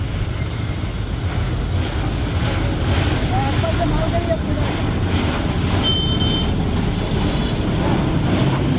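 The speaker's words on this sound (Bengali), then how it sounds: "একদিকে ধেয়ে চলেছে এক্সপ্রেস ট্রেন ও তার অপোজিটে মালগাড়ি।" An express train and a goods train pass in opposite directions beside a flyover construction site, giving a steady, loud rail rumble with wind buffeting throughout and a brief higher squeal partway through.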